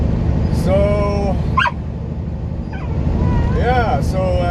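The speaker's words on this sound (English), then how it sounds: "Okay, Max, that's enough barking." A dog named Max barks and yelps inside a moving vehicle, several sharp barks spread across a few seconds over steady low road rumble.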